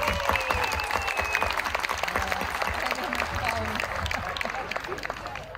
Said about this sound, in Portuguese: Agora os homens batem palmas às mulheres